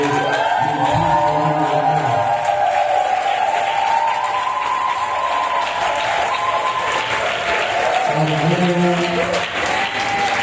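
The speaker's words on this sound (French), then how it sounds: "Ton acclamation est timide. Est-ce que tu veux acclamer?" A church congregation at a French-language spiritual retreat applauds and acclaims loudly and steadily, with sustained clapping and cheering voices over a continuous crowd roar.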